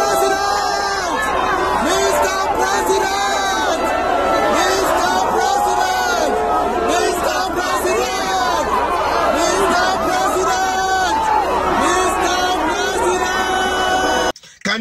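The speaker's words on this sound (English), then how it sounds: "Where a hired crowd of people screaming, their president select" A large crowd of people screams and shouts continuously, a loud, dense mass of overlapping voices that never lets up before cutting off abruptly at the end.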